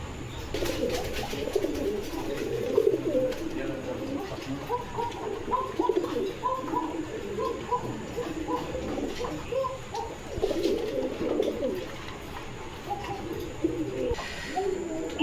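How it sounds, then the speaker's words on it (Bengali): Pigeons at a pigeon farm coo over and over in a soft, overlapping chorus, several birds calling close by without a break. "এখানে একজোড়া কৃষ্ণ কবুতর দেখতে পাচ্ছেন"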